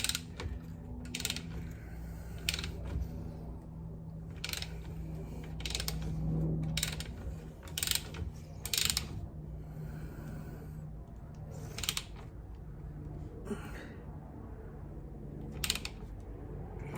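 Torque wrench tightening bolts on the brakes of a Maserati GranTurismo, giving a series of sharp ratcheting clicks in irregular bursts over a low steady background hum, close but fairly quiet.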